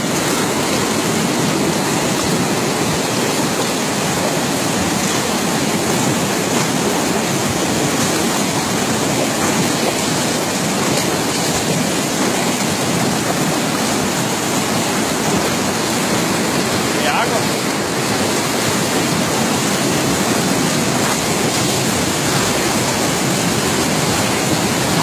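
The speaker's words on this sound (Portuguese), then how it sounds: "A água tá passando, batendo por baixo da ponte." Water of the flooded Madeira River near Porto Velho, Rondônia, rushing and pounding beneath a bridge, a loud, continuous roar with no break for the whole stretch.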